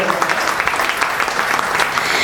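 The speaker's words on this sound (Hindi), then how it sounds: "जरा तालियां वालियां बजाओ, जरा माहौल बनाते हुए चलो।" A crowd at a Hindi comic poetry gathering applauds steadily, a dense, continuous wash of clapping that stays loud and close from start to finish, with no speech over it.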